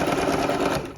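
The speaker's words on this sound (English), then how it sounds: "It's very interesting trying to sew these gloves." A sewing machine runs steadily through glove fabric, a continuous close whirring hum that tapers off slightly at the end.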